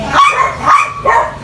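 A dog barks three times in an even rhythm, loud and close, each bark short and sharp with a slightly whiny edge, out in a morning garden.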